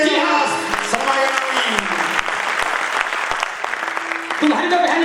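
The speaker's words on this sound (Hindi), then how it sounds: "भाई ताली बजा दे शर्मा जी।" An audience at a Haryanvi saang folk theatre performance claps steadily and loudly, the applause running throughout with sharp individual claps and a harmonium-like tone and voices mixed in.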